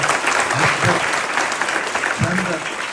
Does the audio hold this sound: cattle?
no